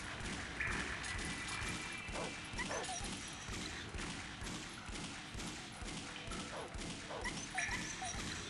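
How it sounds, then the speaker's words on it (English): Dogs whimper and bark in Shadow Man Remastered, repeated yelps and whines over thuds, crashes and clattering game sounds in a busy, steady mix. "Look at these poor dogs."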